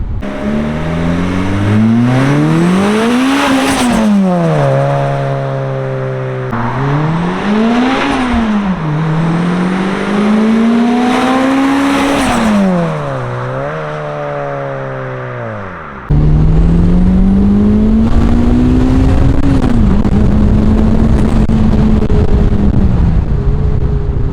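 A Toyota Celica GT-S turbo engine at full throttle, heard from inside the car, revs up repeatedly through the gears with rising and falling pitch sweeps, loud and close, with no talk.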